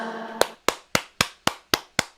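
Seven sharp, evenly spaced hand claps ring out crisply, each with a short decaying tail, coming from a genie in an animated children's story; a brief tonal note sounds just before the first clap.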